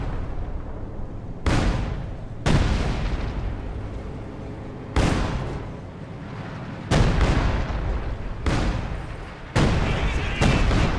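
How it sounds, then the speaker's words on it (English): An artillery barrage in the Company of Heroes 2 real-time strategy game: five or six heavy, booming shell impacts land at irregular intervals, each a sharp loud crack followed by a decaying roar over a continuous low battlefield rumble. "Another minor barrage there."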